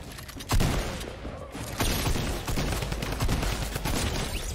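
Rapid gunfire in a Fortnite box fight, dense overlapping shots in sustained bursts, loud and close with a sharp blast near the start and another burst partway through.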